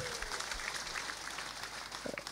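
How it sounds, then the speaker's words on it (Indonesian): A church congregation at a revival service applauds for God. The clapping is moderate and fairly distant, and a few louder bursts and some crowd murmur come through near the end. "Beri tepuk tangan dulu yang meriah bagi Tuhan."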